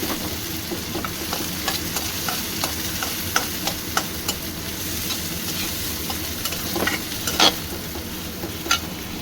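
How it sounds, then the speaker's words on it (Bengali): Onions with chopped green chillies frying in a pan, a constant close sizzle broken by the scrape and clatter of stirring, with no talk. "পেঁয়াজটা আমি একটু ভেজে নেব।"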